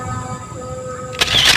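A camera shutter fires once with a sharp, bright click near the end, preceded by quiet low-level room noise.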